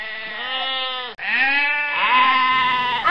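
A sheep in a cartoon story bleats in long, wavering cries, two drawn-out calls close and loud with a brief break between them.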